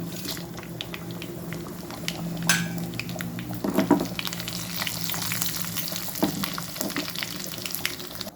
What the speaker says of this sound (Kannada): ಈಗ ಎರಡು ಮೆಣಸನ್ನು ಕಟ್ ಮಾಡಿ ಇಟ್ಕೊಂಡಿದ್ದೆ ಇದನ್ನು ಒಗ್ಗರಣೆಗೆ ಹಾಕೊಳ್ತೇನೆ